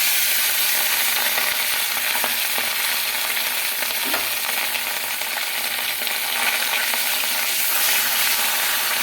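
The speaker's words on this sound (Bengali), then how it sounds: "মাছগুলোকে আমি কড়া করে ভেজে নেব" Khoira river fish frying in hot mustard oil, a loud, steady, dense sizzle that holds unbroken throughout, with faint scraping of a utensil now and then.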